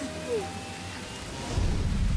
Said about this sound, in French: Et il pleut vraiment très fort.